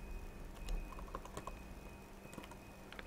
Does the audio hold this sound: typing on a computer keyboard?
yes